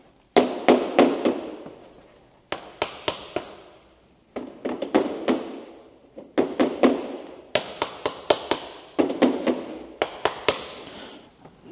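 Footsteps on Fortelock plastic interlocking garage floor tiles, loud clattering taps in quick bursts of several steps with short pauses between, hollow and rattly.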